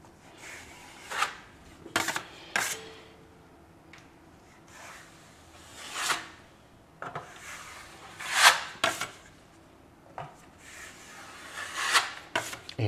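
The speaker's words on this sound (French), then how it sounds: "Donc lame à enduire." Plastering knife spreading filler across a blistered wall during repair, giving intermittent scraping rasps in short separate strokes, close and fairly quiet with pauses between passes.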